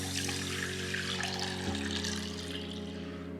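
Cold water from a chilled pitcher pours steadily onto a cup of oats in a container for homemade oat milk, a continuous close splashing stream with no talking.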